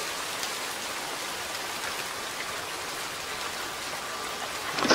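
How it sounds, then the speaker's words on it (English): Steady rain falls outside a house front door in the evening, a dense, even patter on surfaces that continues throughout at moderate distance, with a slight rise at the very end. "A note on the experience of hearing rain falling."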